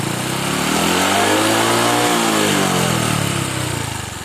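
A motorcycle with a modified cam and exhaust revs up close and loud, its engine note climbing to a peak and then falling away in one sustained rev, with no talking.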